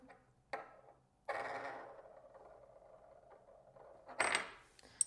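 Spinning top cube toy whirring on its own across a hard surface, a quiet sustained buzz after a few light clicks, ending with sharper clattering knocks as it settles.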